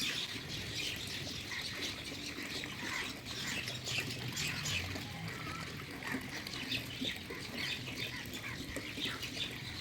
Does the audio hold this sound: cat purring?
no